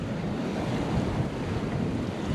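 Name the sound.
wind and waves while sailing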